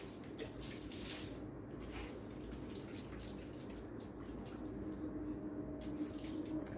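Water runs steadily from a tap while someone rinses shampoo out of their hair, a quiet continuous splashing flow with no talking.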